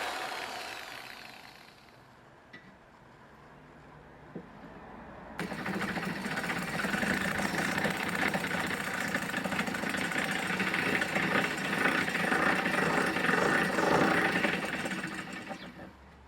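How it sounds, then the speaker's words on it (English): An electric drill bores a hole through a metal wheelbarrow pan, driven through existing chassis holes; a few quiet handling knocks lead into a sustained loud whirring grind that runs about ten seconds before winding down. "it's my intention to use the existing holes in the chassis to drill the 4 new holes in the pan."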